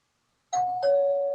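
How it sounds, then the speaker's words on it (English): A doorbell rings in a Brooklyn home in the middle of the night: two clear, loud electronic chimes, one after the other. The second tone rings on after it. "Somebody's ringing a doorbell."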